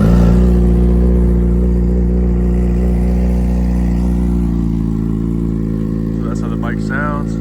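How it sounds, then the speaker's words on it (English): A Suzuki GSXR motorcycle engine, freshly refilled with oil, idles loud and close with a deep, steady rumble, and a brief rising rev flickers at the very end. "We're gonna turn it on. We're gonna give it a couple revs now that we have new oil in it."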